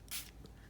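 A spritzer bottle spraying water beside an ink and pearl-powder pocket tag, one short hissing mist burst followed by a faint second puff, close and quiet.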